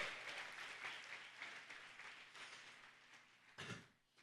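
A church congregation claps and cheers in sustained applause at a worship service, a dense wash of hands that fades out near the end after a final swell.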